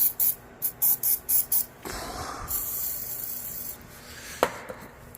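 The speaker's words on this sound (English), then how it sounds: "Let me get some spray. I like to lubricate those before we put them back together." Spray lubricant hisses in six short, close bursts from an aerosol can onto parts before reassembly, followed by a longer quieter hiss with faint handling noise and a sharp click.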